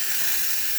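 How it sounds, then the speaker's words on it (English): The steam valve opened on a La Pavoni espresso machine, a brief, steady, close hiss of escaping steam, loud and bright, with no voices. "if you just open the steam valve quick"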